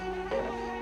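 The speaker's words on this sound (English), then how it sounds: "I also hear bees on the other side of this wall." Buzzing of bees behind a wall in the Banjo-Kazooie video game, a steady, droning insect hum with layered harmonic tones that holds evenly throughout and swells slightly partway through.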